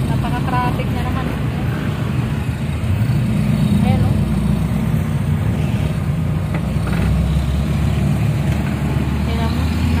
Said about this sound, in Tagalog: Napaka-traffic na naman.